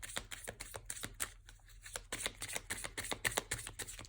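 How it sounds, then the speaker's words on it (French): Oracle cards riffle and slap as they are shuffled and drawn, a quick run of crisp papery flicks and taps with a short pause partway through. "Je vais quand même tirer une carte du Line of Love pour nous en dire un petit peu"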